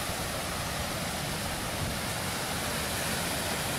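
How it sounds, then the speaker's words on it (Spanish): The third cascade of a waterfall near Claromecó, Argentina pours in a dense, steady roar of rushing water that fills the whole clip without a break, with no voices. "llegamos a la tercera cascada"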